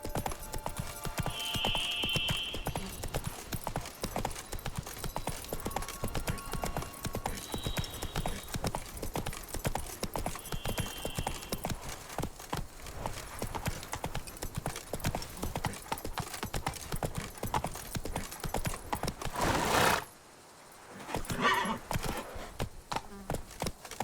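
Horse hooves clip-clopping in The Witcher 3: Blood and Wine, a steady rhythmic trot on a hard surface that carries on for most of the stretch, drops out briefly near the end and then resumes, with occasional faint whinnies.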